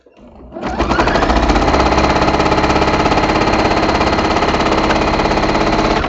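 A sewing machine stitches quilt rows together, starting up and then running in a fast, steady mechanical rattle at close range, loud and continuous with no pauses.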